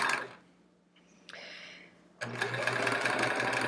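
A vintage sewing machine sews the back of a chevron quilt, starting abruptly after a quiet pause with a loud, steady mechanical whir that runs continuously and close.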